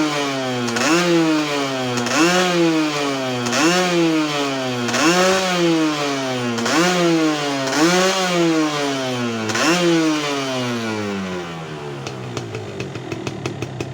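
A motorcycle engine with a modified throttle assembly and a Yamaha TZM throttle sleeve revs hard about seven times in a steady rhythm, each rev rising sharply and then falling. It settles into a rough idle near the end.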